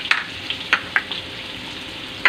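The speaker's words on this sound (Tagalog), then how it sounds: "Nilagay ko na yung ating bawang sibuyas dito na rin sa ating" Garlic and onion sautéing in oil left over from frying salmon, heard as a faint sizzle broken by a few sharp, brief spatters and clicks.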